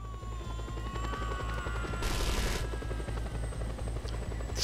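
A helicopter in the open-world video game Just Cause 2 drones loudly and steadily with a pulsing rotor chop, a brief burst of noise passing over it midway.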